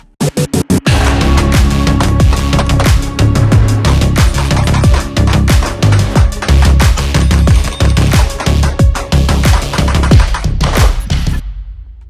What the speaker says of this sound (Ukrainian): Зараз ми трошки постріляємо, покажемо, як це все відбувається